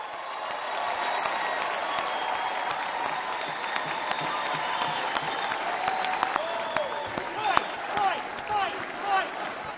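A large crowd gives Trump a standing ovation, with sustained, dense applause and scattered cheers and whistles rolling on for several seconds.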